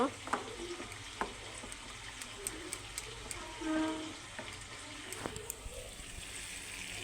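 Potatoes coated in poppy seed paste and spices fry in oil for aloo dum, with a soft steady sizzle broken by light, scattered spoon scrapes and clinks against the pan.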